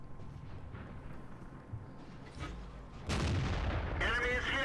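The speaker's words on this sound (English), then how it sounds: "I'm gonna get some decent shots off on these tanks here" Tank cannon fire in the World of Tanks video game, with dull booms and rumble under a steady background wash, then a louder heavy shot near the end followed by a ringing tail.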